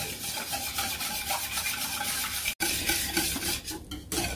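A whisk scrapes and swirls through thickening pudding in a pot, a soft continuous rubbing and clinking with a brief pause midway, fairly quiet and close.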